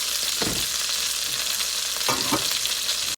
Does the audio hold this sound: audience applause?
no